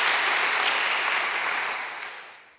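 A crowd at a public talk claps loudly in a thick, even burst that holds, then tapers off and fades out toward the end, with no speech over it.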